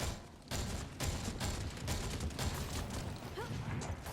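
Scattered bursts of gunfire and mechanical clatter crackle through a match in the video game Synced, moderately loud and fairly steady with no pauses.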